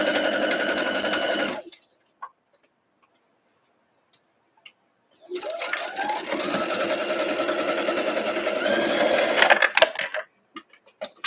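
A home sewing machine stitches a quilt block, a fast steady whirring run that stops, a few light ticks in the pause, then a longer run that ends in small clicks, close and loud with no speech.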